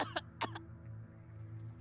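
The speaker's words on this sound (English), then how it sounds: "I cough and spew more syrupy," In the video game It Paints Me, a character gives two sharp, wet coughs close up in quick succession, bringing up liquid, followed by a quiet low hum.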